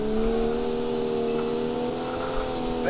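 A 3-litre straight-six engine in a 1966 Gasmea budget car at Road Atlanta in a racing video game holds a steady, loud, droning rev with clear harmonic tones and no talk.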